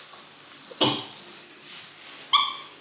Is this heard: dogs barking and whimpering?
yes